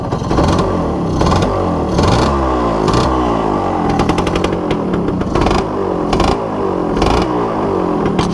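A Suzuki Satria 120R two-stroke motorcycle engine revs up and down repeatedly, close and loud, with rising and falling pitch sweeps and a buzzy idle between throttle blips.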